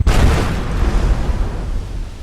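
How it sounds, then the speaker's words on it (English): An explosion in modded Skyrim gameplay: a sudden loud boom followed by a long, rumbling decay that fills the space for about two seconds, heard alone. "Explosion!"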